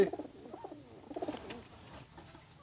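A Beauty Homer pigeon coos softly nearby in a few short, rolling phrases that fade away, against a quiet background.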